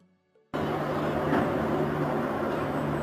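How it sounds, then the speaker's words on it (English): A funicular cable railway on a steep slope starts up after a brief quiet moment, then a steady, loud mechanical hum and rumble carries on without pause. "A type of cable railway system used on steep slopes, where 2 counterbalanced trains are connected by a cable."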